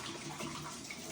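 Leftover coffee from a coffee maker is tipped out in a steady, continuous pour of liquid that splashes briefly, close by, with no other sound.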